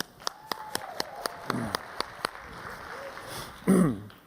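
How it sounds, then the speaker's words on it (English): A few hands clap sparsely in an audience welcoming a speaker, giving sharp, separate claps at an even pace, with a brief cough and a low murmur between them. "And you all go ahead and clap."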